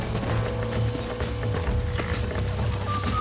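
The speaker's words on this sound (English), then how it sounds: "You get back on your own horse." Horse hooves clip-clop at a steady walking rhythm in the Red Dead Redemption western video game, close and continuous with faint mechanical creaks and a low ambient rumble beneath, no talking.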